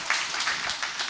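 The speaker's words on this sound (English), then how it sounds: "Applause for that, please." A short burst of conference audience applause, many hands clapping in a steady, fairly loud wash of noise.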